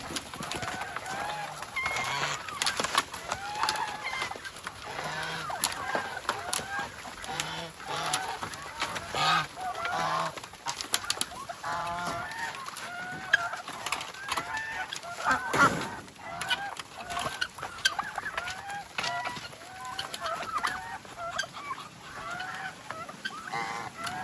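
Turkeys on a farm gobble and cluck in bursts, several birds calling over one another at close range with no one talking.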